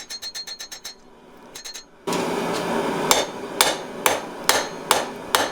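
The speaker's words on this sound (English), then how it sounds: "Constantly hammering the bevels in and then correcting the width" A hammer strikes a knife blank forged from a file on an anvil to draw the bevels, giving a quick ringing series of blows, a short pause, then steady heavy strikes over a roaring forge.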